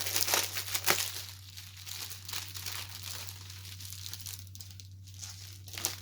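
Plastic craft-kit packaging crinkles and crackles close up in loud, irregular bursts, strongest at the start and tapering off, with no talking.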